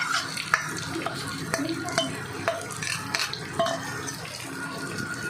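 Masala spices and a green ground paste being stirred into frying brain fry, a spoon scraping and clinking against the pan over a steady background sizzle.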